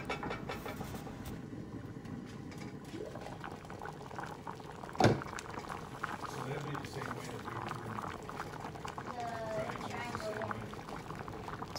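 Beef stew with celery simmers in a pot, a quiet continuous bubbling with one sharp knock midway, while someone talks over it.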